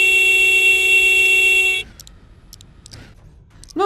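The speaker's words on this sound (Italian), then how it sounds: "Non credo che utilizzerò il clacson" A single long, steady car horn blast from a Teen Titans Go vehicle in LEGO Dimensions on PS4 Pro sounds for nearly two seconds, then cuts off, followed by a few faint electronic blips.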